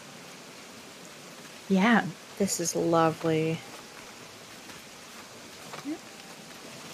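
Steady soft rain and trickling water on an Animal Crossing island fill the background throughout, with short stretches of casual conversation over it.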